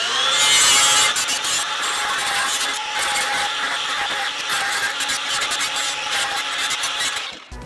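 A power tool fitted with a stripper disc grinds dross off steel in a backyard shed build, a loud, close, continuous abrasive whir with rapid scraping pulses that winds down at the end.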